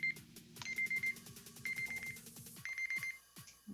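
A timer beeps in repeated bursts of short electronic tones, sounding several times in a row at close range with brief gaps between the sequences.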